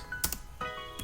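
A computer keyboard clicks as a chmod command is typed in a Kali Linux terminal, with three or four separate close keystrokes spaced across about a second.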